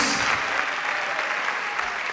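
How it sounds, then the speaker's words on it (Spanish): A church congregation breaks into a short burst of dense, even applause after a prayer, sustained at a steady level throughout. "Fuerte ese aplauso a Jesús."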